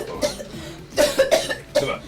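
A woman coughs several times in quick, harsh bursts, close and loud, with short pauses between coughs.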